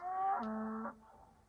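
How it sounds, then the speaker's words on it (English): A single drawn-out cow moo, fairly close and clear, lasting just under a second before fading into quiet outdoor background with no talking. "That's the cows for you."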